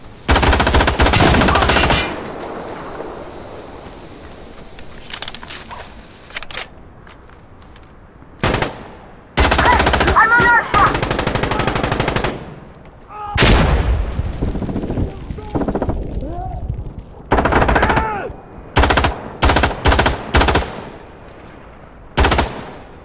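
Loud bursts of automatic gunfire in a multiplayer shooter, heavy volleys separated by quieter gaps with scattered single shots and explosions, and players' voices talking in between.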